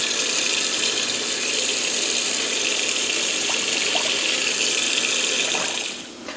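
Water gushing steadily from a tap into a cooking pot of stuffed grape leaves, a loud, even rushing flow that continues throughout and eases off near the end.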